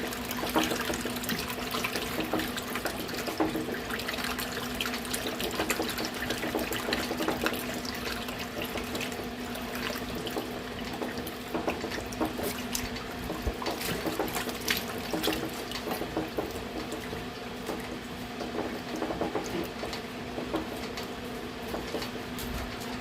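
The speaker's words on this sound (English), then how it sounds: "Whoa, I gotta turn the water off." Water runs steadily from a tap beside an old wringer washer, a constant splashing stream into a sink or drain with small drips and clatters, no talk.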